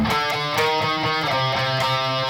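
Palm-muted electric guitar riff from the ending A section of a song, dense distorted chugs in a fast, steady rhythm, loud and close with no voice over it.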